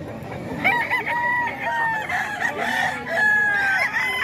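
A rooster crows in long, drawn-out calls with hens clucking around it, loud and close, repeating through the whole stretch.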